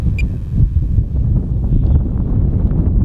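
Strong wind buffets the microphone at an RC flying field where a Hangar 9 J-3 Cub is in the air, a loud low rumbling roar that stays constant and covers everything else.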